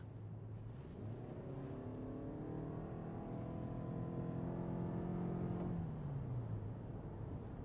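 A 2021 Nissan Rogue Platinum's engine revs up and accelerates hard in sport mode on a country road, its pitch climbing steadily and holding high before easing back down, loud and close.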